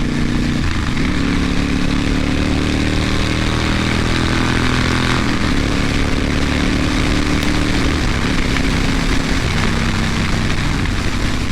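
A 2010 Honda Fury motorcycle engine roars steadily and loudly while riding, with harmonic pitch sweeps as it accelerates through gears, engine and wind noise filling the whole stretch.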